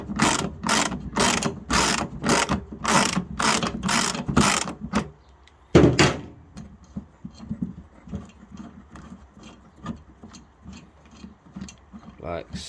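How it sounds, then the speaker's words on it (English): A ratchet wrench cracks loose a nut on a TW150 blade with a fast run of loud, evenly spaced clicks, then a pause, a sharp snap, and quicker, fainter clicking up close. "First thing I want to do is crack this nut open."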